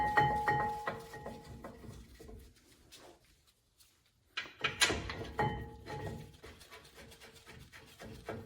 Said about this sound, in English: slide the caliper bracket over. Get the bolts back in there.